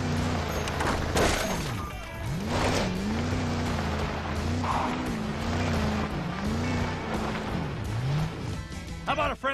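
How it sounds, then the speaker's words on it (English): A car drifts through a turn in the Disney Infinity Cars playset video game, its engine whining up and down in sweeping pitch bends over a continuous bed of game music and effects, with a voice talking across it. "Just lean into your turn and you will be drifting."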